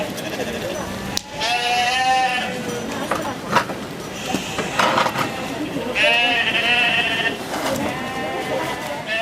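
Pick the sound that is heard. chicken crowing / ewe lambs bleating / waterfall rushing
ewe lambs bleating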